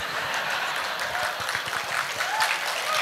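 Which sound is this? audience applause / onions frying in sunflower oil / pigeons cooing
audience applause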